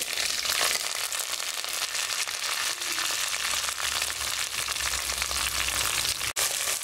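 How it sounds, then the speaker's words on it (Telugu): Ginger-garlic paste and green chillies sizzle in hot oil for a Telugu hotel-style poori curry. A loud, steady frying hiss runs throughout with light stirring, and the sizzle barely drops off near the end. "ఇప్పుడు ఇందులో అల్లం వెల్లుల్లి ముద్ద వేసుకోవాలి"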